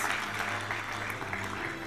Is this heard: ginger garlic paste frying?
no